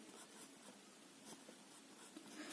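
Pen scratching on paper, faint and close, with short uneven strokes and small pauses as words are written out.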